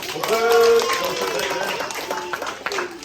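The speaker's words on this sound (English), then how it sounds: "Let's give my friend a clap." Children at a library science event clap for a helper, a short burst of scattered applause mixed with chatter and voices.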